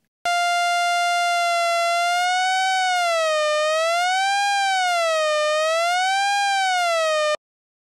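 A Nave software synthesizer plays one sustained tone whose pitch is swept by LFO1, so it rises and falls in slow, siren-like waves. The tone is loud and steady with no talking and stops abruptly after about seven seconds.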